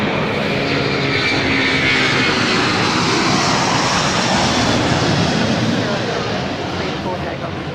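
A Malaysian airliner climbs out after takeoff from Adelaide airport. Its jet engines give a loud, broad, steady roar and rumble that fills the whole stretch, with no voices.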